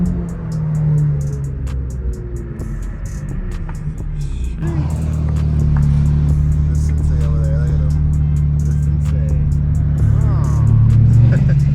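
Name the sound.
turbocharged car intake whoosh resembling blow-off valves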